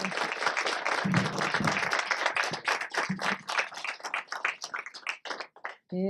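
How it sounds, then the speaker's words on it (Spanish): Close, lively clapping from a small audience at a panel discussion on the accusatory criminal justice system, dense at first, then thinning into scattered claps before a voice begins at the end. "vamos a darle un aplauso al maestro, realmente"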